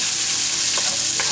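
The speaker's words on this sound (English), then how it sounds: "So keep frying until the onions become little translucent." Onions sizzle steadily in a hot pan, a continuous crackling fry with a faint stir or two partway through.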